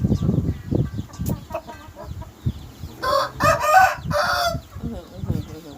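A rooster crows a few times in the middle, bright and fairly close, while a person talks before and after it.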